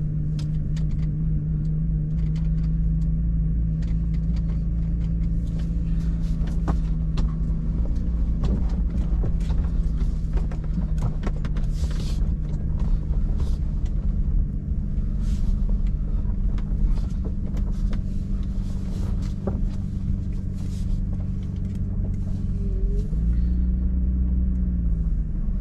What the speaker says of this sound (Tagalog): Obserbahan pati natin itong takbo nitong sasakyan mga boss.